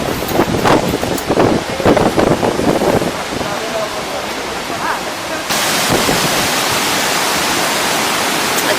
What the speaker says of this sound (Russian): Это красота. Гекский водопад.